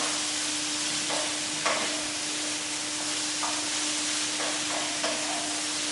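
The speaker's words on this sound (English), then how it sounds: "Again, I am stir frying." Steady, even sizzle of vegetables stir frying in a pan, with a constant hum underneath and occasional soft clinks of stirring.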